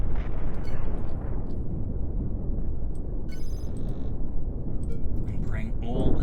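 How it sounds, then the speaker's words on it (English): Ship guns in the space game Cosmoteer firing on an enemy reactor, a dense rumbling barrage of blasts and explosions with a voice talking over it, sharper crackling impacts breaking through near the end. "Target the reactor and fire."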